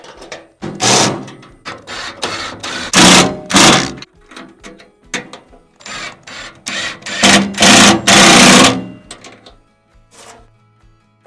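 Tightening bolts with a 17mm socket on a ratchet wrench while assembling a Boss Buck ATV spreader/feeder; loud, close bursts of ratcheting come in repeated strokes separated by brief pauses, with no talking.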